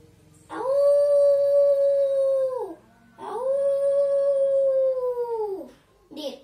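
Two long, sustained howls, each rising and then falling away at the end, loud and close, with a short pause between them and a brief yelp at the finish.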